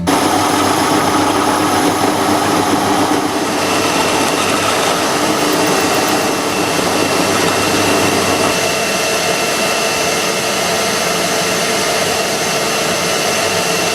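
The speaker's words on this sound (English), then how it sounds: "last step is to drill out the centre of these backing plates" A drill runs continuously at high speed, a steady loud whine that shifts slightly in pitch as it bores out the centre of boat backing plates.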